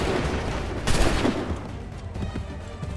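A massed musket volley in Assassin's Creed 3 cracks out in a sharp burst near the start, followed by a decaying rumble and scattered smaller reports across a noisy battlefield.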